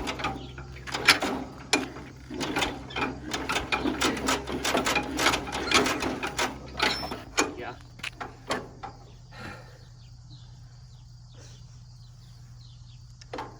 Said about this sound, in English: So I had it start with the crank.